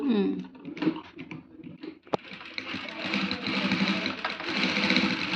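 Sewing machine stitching invisible thread piping on a garment neckline, a rapid mechanical whir in bursts that stop and restart as the needle halts for turns, with someone talking over parts of it.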